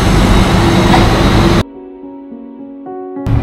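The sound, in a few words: train standing at station in Switzerland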